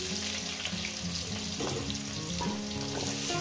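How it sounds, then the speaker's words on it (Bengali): Potatoes fry in a pan with a strong, steady sizzle and spatter, close by, with a low tonal hum and a few stirring knocks underneath; nobody speaks. "এখানে আলুগুলোকে আমি দিয়ে দেবো, ভেজে নেবো"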